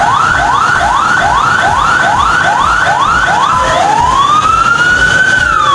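An ambulance siren stuck in a flooded traffic jam at Guru Mandir Chowk in Karachi: a loud, close series of rapid repeating rising yelps that shifts into a long, slow rising wail, sounding continuously with no talk.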